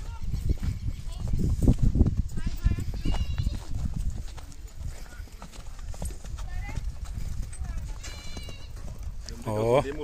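Horses ridden on a farm path with chickens around give off irregular hoof clip-clops close by, under steady talk from the riders and a few animal bleats.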